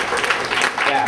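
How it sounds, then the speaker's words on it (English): A short burst of audience applause at a comedy club show, dense clapping filling the room with voices mixed in over it. "I would appreciate some applause for that."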